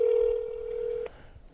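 A single steady telephone tone sounds during a call to Tennessee, holding a clear pitch for about a second before cutting off abruptly into quiet line hiss.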